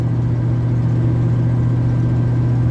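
Dodge Dakota pickup engine humming at steady highway cruise with a lower-ratio rear axle fitted, a loud, even drone and low rumble heard from inside the cab.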